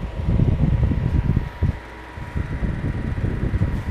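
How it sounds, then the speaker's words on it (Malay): Small electric fan powered over USB Type-C from a simple DIY power station, whirring steadily with broadband airflow noise close to the microphone, a brief dip midway. "kita nak test untuk hidupkan kipas angin ni"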